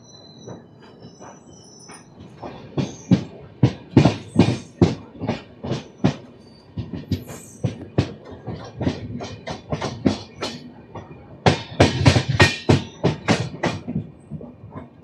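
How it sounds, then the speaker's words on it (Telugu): AP Express pulling into Balharshah railway station; a rhythmic run of wheel clacks over rail joints that grows louder and denser, with a brief lull midway before a strong burst of clatter, heard alone without voices. "బలార్సా రైల్వే స్టేషన్కి ఏపీ ఎక్స్ప్రెస్ వస్తుంది"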